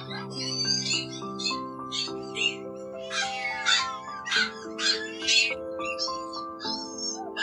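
Two small white stray kittens, left out in the cold, give a string of thin, feeble meows in short bursts over steady background music.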